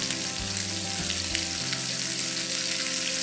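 Pork chops sizzle steadily in a hot pan, a continuous close frying hiss with a low hum underneath and no talking.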